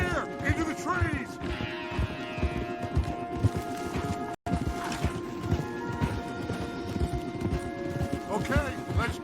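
Horse hooves clop steadily on a trail in Red Dead Redemption 2, several animals moving together in a dense, continuous rhythm, with a brief neigh near the start and someone speaking over the hoofbeats.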